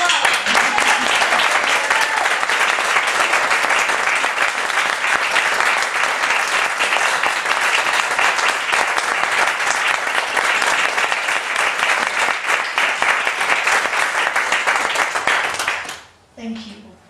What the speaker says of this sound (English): Shall we give a clap of hands for Coral?